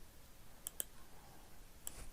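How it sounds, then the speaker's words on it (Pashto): Computer mouse clicks while setting up an email account in Outlook, three short, sharp, faint clicks spread apart over a quiet background. "/TLS دی باندې زه کلیک کوم"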